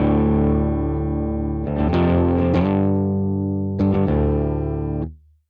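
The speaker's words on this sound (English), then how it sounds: "I am using the Tim Henson Neuro DSP amp on the clean channel" A clean electric guitar played through a Tim Henson Neural DSP amp sims rings out in sustained, harmonically rich chords, struck a few times and held until it fades at the end, with no talking.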